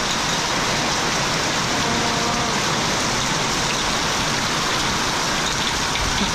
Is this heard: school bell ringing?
no